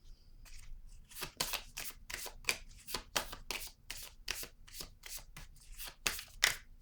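Tarot cards being shuffled by hand, a steady run of about a dozen crisp riffling bursts close to the mic with no talk.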